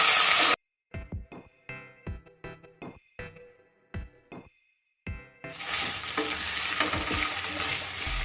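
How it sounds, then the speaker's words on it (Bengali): Ginger paste frying in a pan over medium-low gas. A spoon scrapes and clinks in separate stirring strokes, then a loud, continuous sizzle swells up and runs to the end. "গ্যাসের আঁচ মিডিয়াম টু লোতে রেখে আমি আদাটাকেও কিন্তু খুব সুন্দর করে ভেজে নিলাম"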